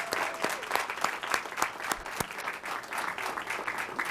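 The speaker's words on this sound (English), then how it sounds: "let's give all these gentlemen a huge round of applause" Applause for the boys competing in an elementary school reading contest, a moderate patter of clapping from a modest crowd with a few sharp individual claps standing out, fairly soft and steady.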